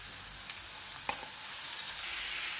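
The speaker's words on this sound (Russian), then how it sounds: "Немного обжарим," Chicken breast meat fries in vegetable oil alongside golden onion and carrot in a pan, giving a steady, even sizzle with one brief stir clink, close and unaccompanied by speech.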